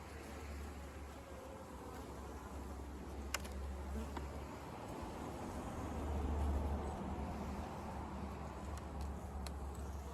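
Honey bees buzzing around a beehive in August, a dense, steady drone close by that swells slightly partway through, with a few faint clicks over it.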